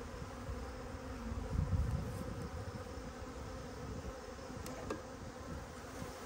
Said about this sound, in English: There are definitely some nice looking bees.